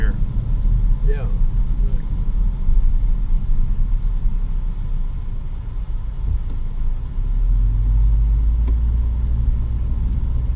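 A car's low interior road rumble fills the cabin continuously while driving, a steady loud drone that swells a little near the end, with faint higher rattles on top.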